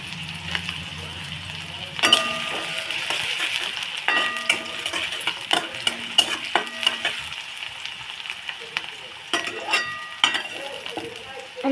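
Finely chopped onion frying with garlic in a pan, a steady sizzle under repeated metallic scraping and clinking of a spoon against the pan, close and busy throughout.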